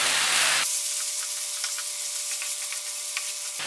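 Tomato masala for mushroom masala curry cooks uncovered in a pan, giving a steady, close sizzle with faint stirring scrapes, and no talk.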